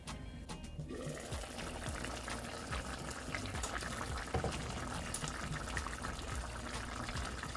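A pot of curry chicken sauce simmers and bubbles with steady popping and sizzling, close and continuous, with no voices.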